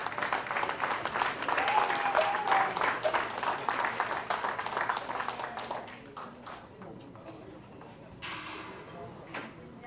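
A crowd at an anniversary celebration applauds an honoree, with dense clapping that is loud at first, then thins to scattered claps, and a voice speaks faintly underneath.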